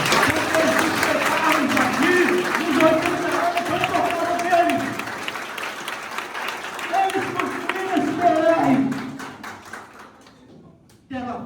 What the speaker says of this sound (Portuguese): Eu queria uma salva de palmas para os aposentados